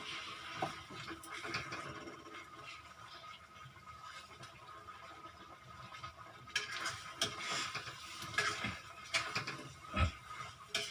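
Fried golden-brown potatoes tipped into a pan of masala for dum aloo and stirred, giving scraping and light sizzling that grows busier toward the end, close by.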